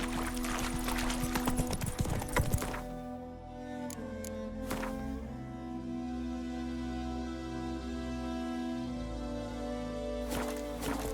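Horse hooves clip-clopping on the ground in The Witcher 3 video game, a steady trotting rhythm over ambient music and background game sound, with brief louder hits near the start.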